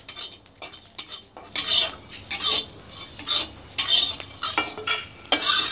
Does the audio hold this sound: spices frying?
yes